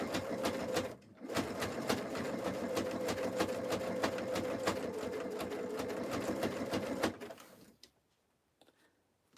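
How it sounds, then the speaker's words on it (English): A sewing machine runs steadily through a jelly roll rug, its fast rhythmic needle clatter close and loud for several seconds after a brief stop, then ending in near silence. "When you thread your machine properly and you have a nice needle in it, it actually sews quite well"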